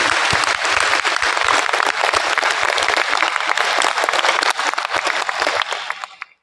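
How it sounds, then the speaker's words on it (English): Warm audience applause at a Seoul event on saving the Earth, a dense steady clapping that fills the room for about six seconds before tapering off at the end. "Please give him a warm round of applause again."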